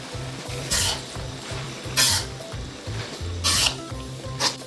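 Seasoning sauce poured around the edge of a hot wok of oyster mushrooms bursts into loud sizzles in several sharp surges, over repeated rhythmic scraping and stirring of the spatula against the pan.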